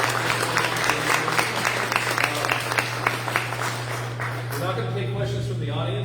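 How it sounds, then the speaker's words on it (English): An audience at a school board candidate debate applauds with dense, steady clapping that carries on for several seconds before thinning, while a voice speaks over an amplified hum toward the end. "let's have a round of applause"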